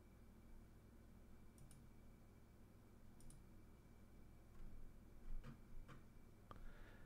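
A handful of sparse, faint keyboard clicks tap out at uneven intervals over a steady hiss of background noise in a quiet room.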